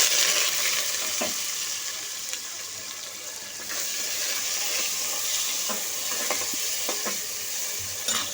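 Onions fry in a pan with a constant hiss, broken by occasional scrapes and knocks from stirring, heard close and moderately loud.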